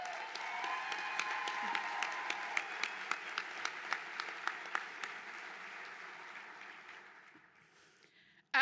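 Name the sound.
audience applause at Hall of Fame induction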